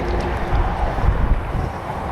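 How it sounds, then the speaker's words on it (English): Steady loud wind buffeting the microphone beneath a motorway, a rough low rumble with gusty swells throughout, no talking. "This is going to be difficult because of how windy it is"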